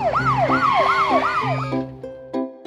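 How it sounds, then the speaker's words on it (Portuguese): Police car siren from a children's cartoon, a loud wailing tone rising and falling in repeated sweeps about every third of a second, set over bouncy cartoon music that continues after the siren fades out. "Vejam, crianças, é um carro da polícia."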